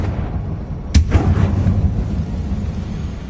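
A Confringo blasting spell detonates in Hogwarts Legacy: one sharp, loud explosive crack followed by a brief rumbling tail and a couple of fading echoes over low ambient background.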